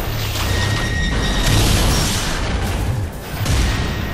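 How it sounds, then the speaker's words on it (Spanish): A loud, rumbling explosion in the racing video game Split/Second, a broad sustained boom with mechanical clatter that holds steady for several seconds before briefly dipping and surging again. "esa explosión nunca la hayan visto"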